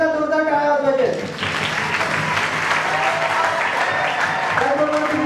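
Vigorous audience applause fills the hall at the close of a free pre-recruitment training workshop at BNM College in Bhiwandi, a dense, steady clapping that swells after brief talk and continues with voices faintly under it.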